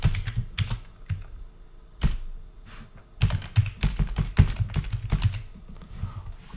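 Keys clatter on a computer keyboard as a Python program is typed in, with irregular bursts of close, crisp tapping broken by short pauses.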